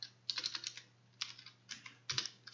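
Typing on a computer keyboard: scattered bursts of quick, light key clicks in short clusters, faint and close against a low electrical hum, no voices.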